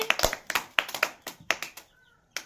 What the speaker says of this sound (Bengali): সবাই ধরে একটা হাততালি।